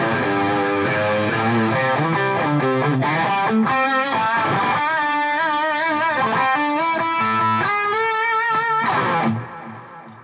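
An electric guitar played through a Boss Katana amp with heavy high-gain distortion rings out in thick chords and sustained riffs, loud and alone, fading at the end.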